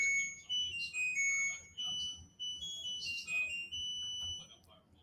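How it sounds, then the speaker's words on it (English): A high-pitched electronic alarm beeps repeatedly in short, sharp chirps, fairly close and clearly audible. "I'm sorry about that beeping"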